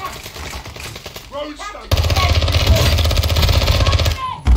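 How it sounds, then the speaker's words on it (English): Rapid automatic gunfire in a video game erupts after a quieter opening and continues loud and dense as a fast, rattling burst to the end. "You are taking effective fire."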